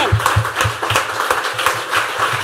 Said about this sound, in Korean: Keep clapping for many seconds.